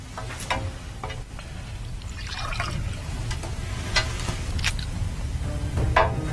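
Water trickles and splashes into a glass, a thin liquid fill with brief drips, heard faintly near the mic over a low steady room hum with no talking.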